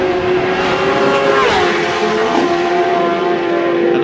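A BMW racing motorcycle leaves the start line at the Isle of Man TT Senior race, its loud, steady high engine whine climbing and shifting as it pulls away, close and dominant throughout.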